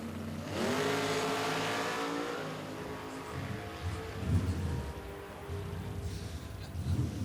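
Drag race cars launching hard and roaring down the strip at an NMRA/NMCA event in Chicago, including a Gremlin. A loud engine howl rises and then fades into a rumbling, fluttering drone.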